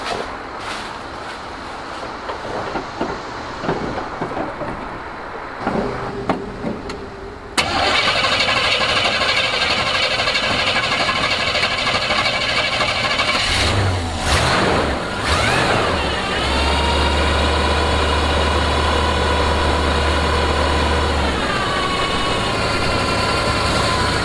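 A Volvo C30's engine cranks and fires up, then settles into a loud, steady idle with a thin high whine running over it; sparse knocks and clatter come before the start.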